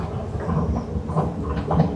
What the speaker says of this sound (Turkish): Evet metroda böyle gidiyoruz.